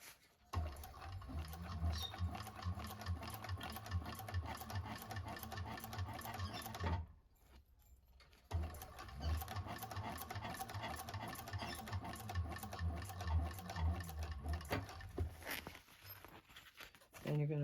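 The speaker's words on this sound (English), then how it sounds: "go back to my sewing stitch, remove that clip, hold your threads and back stitch." A 1341 cylinder arm sewing machine back-stitches a fabric bag with a steady, rapid mechanical clatter, pauses briefly partway through, then restarts and keeps running at the same pace.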